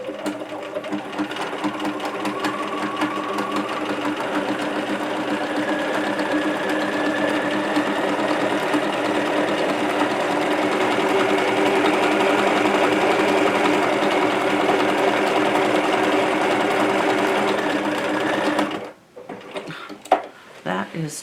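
Sewing machine running steadily for about eighteen seconds, stitching a decorative stitch with a wing needle on dark denim for a tote bag, then stopping abruptly, followed by brief handling clicks.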